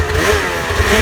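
A snowmobile engine revs hard and steady at close range for a T-Rex wheelie, with a loud, sustained mid-pitched roar and no talking.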